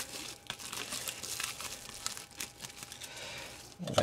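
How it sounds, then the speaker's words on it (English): Plastic wrap is peeled off a box holding an LCD panel kit, with soft, close crinkling and rustling that rises and falls in bursts, ending in a louder handling bump. "Let's see if I can figure out how to unwrap this without destroying everything."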